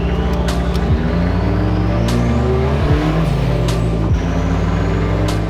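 A turbocharged Ford Escort engine drones steadily at close range, revving and shifting through gears, with a hissing turbo whoosh and faint high whines over the running motor.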